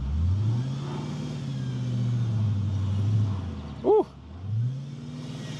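An Audi RS4 that sat unused for years idles and pulls away, a low rumbling engine note that rises and falls with revs, close by, with a brief voiced exclamation over it.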